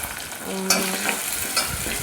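Spices for sambar tempering crackle and sizzle in hot oil while a spoon stirs and scrapes the pan, with a few sharper pops standing out near and clear; no one speaks.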